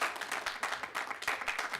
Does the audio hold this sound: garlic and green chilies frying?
no